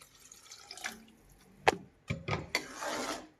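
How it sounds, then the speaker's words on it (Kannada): Water is poured into tomato gilli biryani rice and masala, giving a few close, quiet splashes and drips that end in a short steady trickle. "ಈಗ ನಾನು 1 ಗ್ಲಾಸ್ಗೆ 2 ಗ್ಲಾಸಷ್ಟು ನೀರು ಹಾಕ್ತಾ ಇದ್ದೀನಿ."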